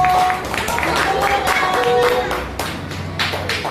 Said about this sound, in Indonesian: Tepuk tangan buat kelompok kupu-kupu.